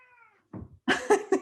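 A house cat meows several times close by, a short thin cry followed by three louder, drawn-out meows in quick succession, with no talk over them.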